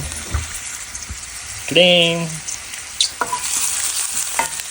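Chicken frying in a pan, stirred with a ladle that scrapes and knocks against the metal over a steady sizzle, with a brief tonal squeak partway through.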